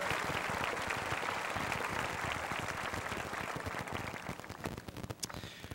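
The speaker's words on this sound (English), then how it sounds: "Let's give these folks a round of applause." A crowd at the 2003 South St. Paul high school graduation ceremony applauds the teachers and staff, a thick, continuous roar of clapping that stays steady before tapering into scattered, distinct claps near the end.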